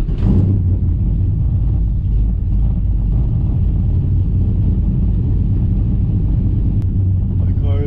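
A car engine with a stage 3 camshaft rumbles low and steady at idle after a cold start, a loud continuous drone with no talking.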